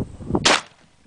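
A shotgun fires a single sabot slug: one loud, sharp blast that cuts off quickly, preceded by faint handling noise.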